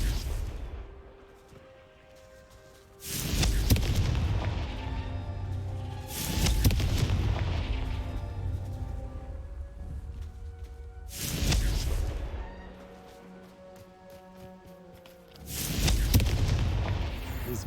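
Confringo fire spells explode in the Hogwarts Legacy video game, with four heavy booming blasts spaced a few seconds apart, each rumbling away before the next.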